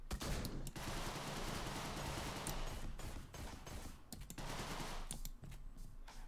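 Rapid gunfire and shot bursts from the video game Deadbolt, loud and dense, with sustained automatic-weapon rattling broken by brief pauses and fresh fusillades, no talk over it.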